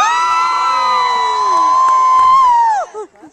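Live audience at a festival finale variety show roars with loud sustained cheering and high whoops for the host, a steady wall of crowd noise that cuts off sharply near the end.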